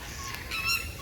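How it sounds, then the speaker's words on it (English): A screamer bird on its nest at San Diego Zoo on a rainy day gives a short, honking goose-like call over steady background noise. "This bird here on the nest is called a screamer"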